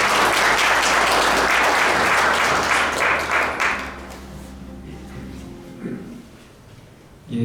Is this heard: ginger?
no